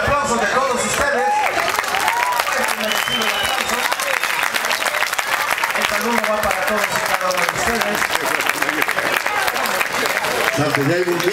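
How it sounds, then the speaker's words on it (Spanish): Sustained audience applause with cheering from a crowd at an acrobatic squadron event, dense and steady throughout, with voices calling out and speech mixed into the noise. "Es así como agradecemos el aplauso de todos ustedes"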